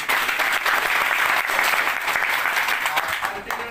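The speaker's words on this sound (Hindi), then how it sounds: "इन सब के लिए जोरदार ताली।" Vigorous audience applause rolls on continuously, a dense, even wash of many hands clapping close by from start to finish, with voices faintly mixed in beneath it.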